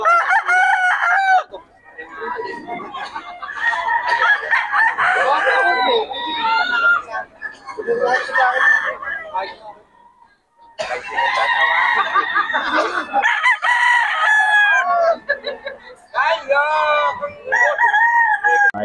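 Roosters and chickens at a poultry spot in Bocaue crow repeatedly and loudly, with overlapping cock-a-doodle calls and clucking filling the scene while people chatter in the background.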